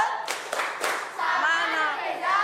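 Children in a classroom clap a rhythmic 'tepuk salut' salute, several sharp group claps in a quick pattern, then chanting young voices follow close by.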